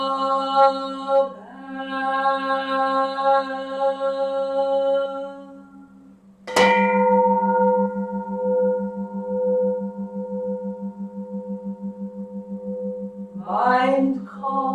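A Zen temple bell at a Sunday service in Ann Arbor rings out: one earlier stroke fades away, then a single loud, clear strike blooms into a long, humming decay, with a voice briefly heard at the start and near the end.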